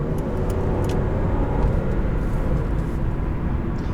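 A 2009 Volvo S80 with the 3.2 six-cylinder engine hums steadily during a test drive, a constant low drone with road and cabin noise and no clear revs or gear changes.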